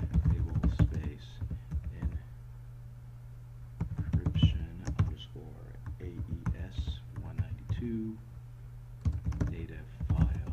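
A computer keyboard clatters in bursts of quick keystrokes, pausing and resuming at close range while a person talks quietly between and over the typing.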